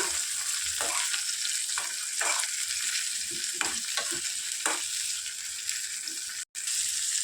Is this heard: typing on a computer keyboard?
no